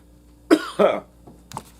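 Two sharp, close coughs in quick succession, followed by a couple of smaller throaty coughs in a quiet room.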